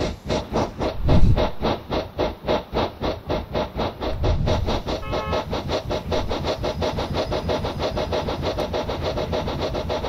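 A steam locomotive chuffs in a rapid, even rhythm, each exhaust beat loud and close, with a couple of deeper thumps early on and no voices.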